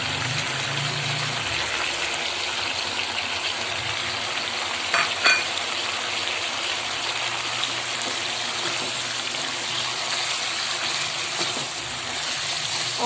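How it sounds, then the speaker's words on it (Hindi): Fried kachnar buds going into masala that has released its oil, giving a steady broadband sizzle of frying with faint stirring and a couple of brief scrapes near the middle, continuous and close throughout. "अब मैं इस स्टेज पर ये फ्राई की हुई कचनार इसमें शामिल कर रही हूँ।"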